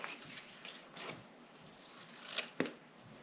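Scissors cutting shapes from paper or card in a few soft, scattered snips, with a sharper pair of cuts near the end, close and quiet with no talking.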